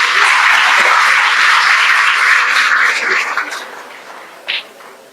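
Audience applause at the inauguration ceremony of a national ophthalmology conference, a dense steady wash of many hands clapping that thins and fades toward the end, with one brief louder burst near the close.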